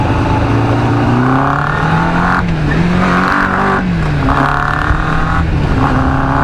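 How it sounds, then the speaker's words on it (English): A 1996 Kawasaki GPX 600R 592cc motorcycle engine revving up through the gears, loud and close, with repeated rising pitches broken by brief dips at each shift. "Goes through all the gears"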